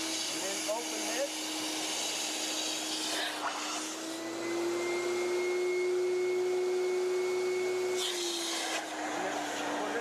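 Rotovac Ranger carpet cleaning machine pump runs continuously, a loud steady whine like a vacuum motor whose pitch rises slightly as suction builds, with a person talking over it.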